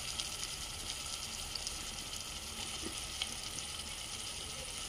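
Potatoes fry in hot oil in a pan for aloo kurma, giving a steady, even sizzle with a few small pops and no talking.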